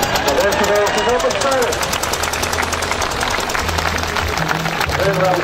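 Diesel tractor engine at a vintage show in Inishowen, running loud and steady with a rough knocking throb, heavy low rumble throughout and crowd noise over it.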